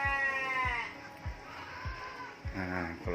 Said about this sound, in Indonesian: kalau ini domba lokal, ini domba Garut